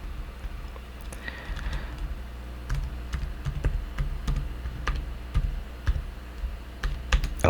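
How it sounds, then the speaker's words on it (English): A password being typed on a computer keyboard at a desk, with soft scattered keystrokes in irregular bursts over a steady low room hum, fairly quiet and close. "So I'm gonna type it in."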